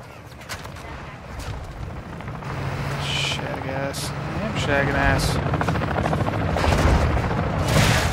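Helicopter rotor in Modern Warfare III Zombies thumping steadily under gunfire and explosions, with a voice talking over the busy, loud mix throughout.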